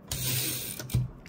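Screws being turned out of a Harris Visible typewriter during escapement repair, with a close mechanical ratcheting whir followed by a short second burst, and no talk.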